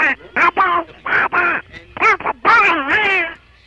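A person vocally imitates a rapid, rhythmic duck quack in a disco style, a run of close, loud nasal quacks with short gaps between bursts, heard alone on a radio program.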